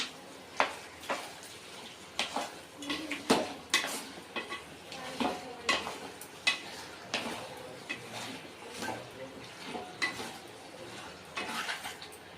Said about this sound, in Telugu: పసుపు వేసి కలపాలా.